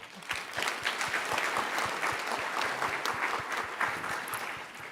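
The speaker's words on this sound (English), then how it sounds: "Give her a round of applause." Audience applause at a startup pitch competition session: a sizable crowd claps steadily and densely for several seconds, with a few sharper individual claps standing out, moderately loud from a mid distance.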